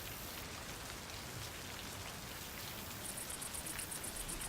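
Steady heavy rain pours in the Hard Rain chapter of the video game Left 4 Dead 2, a dense continuous hiss with a faint high ticking emerging near the end.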